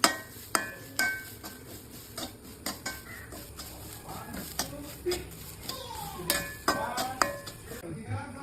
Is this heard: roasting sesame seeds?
yes